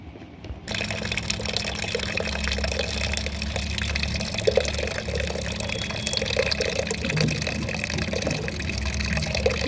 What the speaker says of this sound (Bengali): এটুকু ডালের মধ্যে যতটুকু জল দরকার আমি ততটুকু জল দিয়ে দিলাম